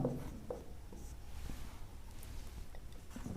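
Chalk scratches across a classroom board during a maths lesson, a series of short, close scraping and tapping strokes in quick succession with no talk.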